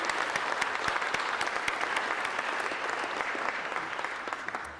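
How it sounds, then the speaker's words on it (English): Steady, sustained applause from a large audience at a tertiary teaching excellence awards ceremony, dense clapping filling the room throughout with no break. "Please give them all a huge round of applause, ladies and gentlemen."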